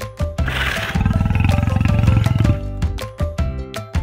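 A toy lion lets out a sustained rumbling roar lasting a couple of seconds over light background music, followed by shorter clicks and tones as it fades.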